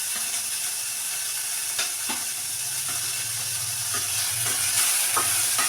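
Thinly sliced large onion frying in a pan for brain curry, an even, dense sizzle with occasional stirring knocks, close and steady, without speech.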